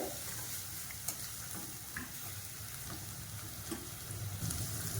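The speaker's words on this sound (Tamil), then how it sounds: "வெங்காயம் சேர்த்து நல்லா வதங்கணும்" Steady frying sizzle of onions sautéing in a pan, with faint crackles and occasional small clicks, continuous and close, no voices.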